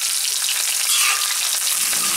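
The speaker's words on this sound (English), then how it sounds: "I'm deep frying my ginger." Loud, steady sizzling of ginger deep frying in hot oil in a cast iron wok, a dense crackling hiss close by.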